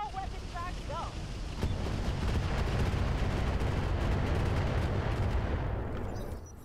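Mechs open fire with their weapons in the Roguetech battle game, sending heavy booming shots and rumbling bursts through a loud, dense stretch of combat noise, with a few brief electronic chirps at the start.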